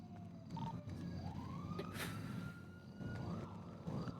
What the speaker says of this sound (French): j'ai un truc contre les sirènes